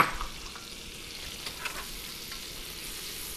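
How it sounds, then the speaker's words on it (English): Acorn squash frying in a preheated skillet with butter, a soft continuous sizzle with light stirring scrapes and a few faint clicks, close and steady, with no voices. "which is going into the preheated skillet. In goes the acorn squash."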